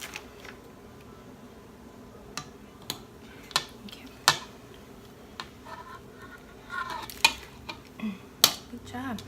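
Cookie dough being stirred in a bowl gives a run of sparse, sharp clicks and scrapes, irregular and close, growing busier toward the end, with a faint voice now and then.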